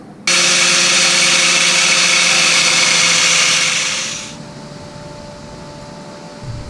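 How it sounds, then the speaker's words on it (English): A cutting wheel slices through a steel bumper reinforcement bracket, a loud, harsh, steady shriek starting abruptly and running about four seconds before winding down to a low hum. "I have my cutting wheel"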